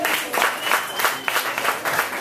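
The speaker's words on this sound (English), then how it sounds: "by round of applause, how many of you can clap?" A comedy club crowd breaks into sustained applause, dense overlapping clapping that swells and dips in waves for a couple of seconds.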